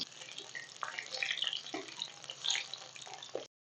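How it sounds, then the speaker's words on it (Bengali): Water lily stems fry in hot oil, a continuous crackling sputter with scattered sharper pops, close and moderately loud. "খুব সুন্দর ভাবে দেখো ভেলা ভাজা হচ্ছে।"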